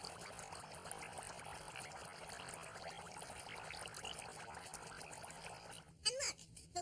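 Air blown hard through tubing into a jar of water, giving a steady, close bubbling gurgle that runs continuously for several seconds, then breaks off into a few louder splashy bursts.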